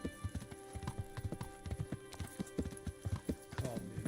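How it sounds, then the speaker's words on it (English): Horse hooves in Kingdom Come: Deliverance, a steady rhythmic clip-clop of a ridden horse moving at a walk, close and clear, with a brief jingle of tack near the end and no talking. "Pebbles, my noble steed."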